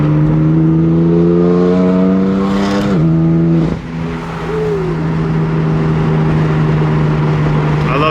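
A BMW M4 GTS on Michelin Pilot Sport Cup 2 tires pulls hard under acceleration, its engine note loud and close. The engine drones steadily, dips sharply as a gear change cuts in, then settles back into a sustained, even drive.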